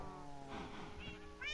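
A cat meows in the Minecraft video game, one short, clear, somewhat faint call with a tonal, rising quality.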